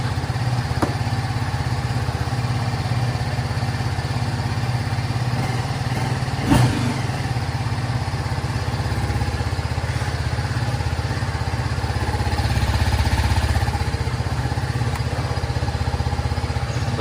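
A TVS Apache RTR 310 motorcycle idles close by with a steady low engine throb, a brief clatter midway and a slight swell near the end.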